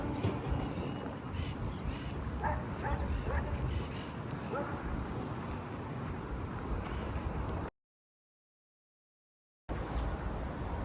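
Dogs barking and yipping in a dog walking park in Madrid, scattered calls set against steady outdoor noise, with a short gap of silence near the end.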